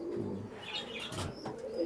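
Pigeons in a farm loft, Indian and Pakistani high-flying breeds kept in pairs, coo softly at close range, with faint chirps and rustling over a steady background murmur.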